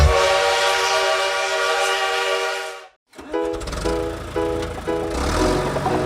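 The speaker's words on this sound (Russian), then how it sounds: "Чух-чух-чух пыхтит, ту-ту-ту гудок гудит." Steady rhythmic rail clatter fills the first three seconds, then after a brief gap a loud train horn sounds in repeated blasts over continuing rumble.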